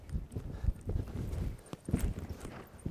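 A horse's hooves beat in an uneven rhythm on arena footing during show-jumping training, the close, soft thuds coming in quick clusters with no talk.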